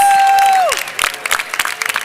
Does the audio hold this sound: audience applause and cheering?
yes